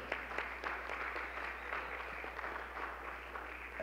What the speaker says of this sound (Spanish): Les pido un aplauso a nuestros dos invitados.